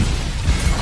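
A loud, dense blast from a film scene, with broad roaring noise filling the whole short stretch and a few heavier low thumps inside it, no talk over it.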